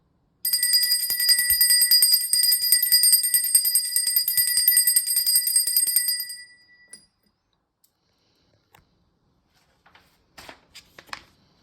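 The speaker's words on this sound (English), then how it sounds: "let me really purify this with this beautiful bell." A small handheld bell rung continuously for ritual purification, a bright, loud, sustained metallic ringing lasting about six seconds that then fades into near silence, followed by a few faint soft rustles.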